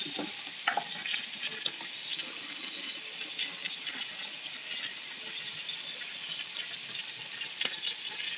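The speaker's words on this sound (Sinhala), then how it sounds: "එතන මේක දැන් තෙලේ මිරිස් ටික බැදෙන්න ඕනේ." Chili sizzles in hot oil while cooking for a Sri Lankan cucumber curry, a steady, fairly quiet frying hiss dotted with small pops and crackles.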